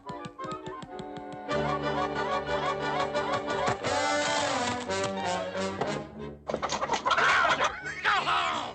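Chickens cluck in a Goofy cartoon scene with music playing, short pecking clucks and taps scattered over the score in bursts, louder toward the end.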